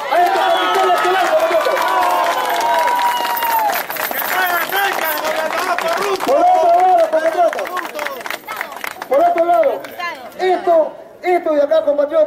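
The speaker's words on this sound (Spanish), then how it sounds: "yo pido un aplauso de confianza a este Comité Electoral" A gathered crowd at a regional party delegate election breaks into applause for the electoral committee, loud clapping mixed with cheers and voices near and all around, swelling and dipping in bursts.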